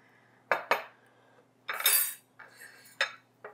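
Metal utensils clink against a bowl while bacon ranch pasta salad is served, a handful of sharp scraping and tapping sounds spaced out over a quiet background.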